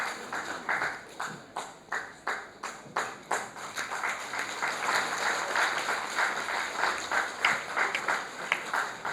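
Audience applause at a Buddhist gathering, sustained clapping from many hands through the whole stretch, moderately loud with uneven individual claps standing out against the roomy crowd wash.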